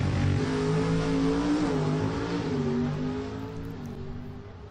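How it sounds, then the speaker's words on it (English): A drag racing car at Atco Dragway accelerates hard up through a five-speed gearbox, loud engine pitch climbing and dropping with each shift, then fading slightly as it pulls away. "Going through the gears, 5-speed, and let's see what he goes."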